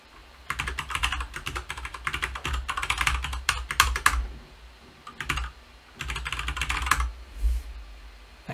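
Username and password typed on a computer keyboard: rapid bursts of close, crisp key clicks with short pauses between runs, no talking.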